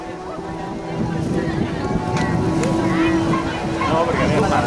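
A boat passes on the water during a rowing regatta off Badalona: a low, steady rumble that swells after the first second and is mixed with gusty wind noise.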